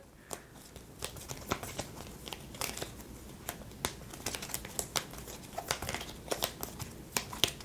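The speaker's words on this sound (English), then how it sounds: "Let me shuffle up his deck here real quick." Cards in a Marvel Champions LCG invocation deck being shuffled by hand, a steady run of crisp riffling snaps and papery flicks, close and fairly quiet, with no talking.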